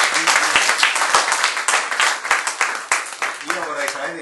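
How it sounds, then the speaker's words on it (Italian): Applause from the audience at an Italian book talk, loud, close clapping with sharp individual claps audible within a sustained round that gradually thins toward the end. "Facciamo un applauso."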